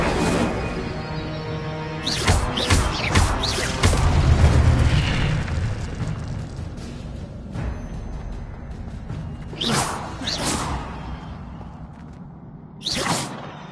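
An Incendio fire spell cast in Hogwarts Legacy, giving a series of booming, whooshing bursts, a loud cluster early on followed by sharper blasts spaced apart, over a steady rumbling game backdrop.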